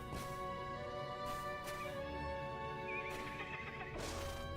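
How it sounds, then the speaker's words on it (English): Horses in the online game Lord of the Rings Online neigh and whinny over a steady ambient backdrop, with a few distant hoof clops, several whinnies spread through the few seconds, no speech. "Couple of horses."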